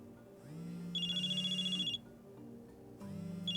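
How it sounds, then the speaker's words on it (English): A telephone rings in the Nancy Drew game Mystery of the Seven Keys, with two clear electronic ring bursts separated by a short pause, loud and close with no talk over it. "Phone is ringing."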